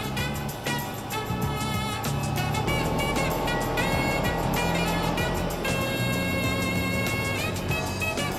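A 2017 Suzuki GSX250R motorcycle pulls uphill in third gear after a downshift, its engine holding a loud, steady buzzing drone with rising harmonics and wind rush throughout.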